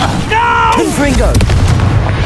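A Confringo fire spell bursts in Hogwarts Legacy with a short booming explosion, followed by a few sharp pops, while a voice speaks over it.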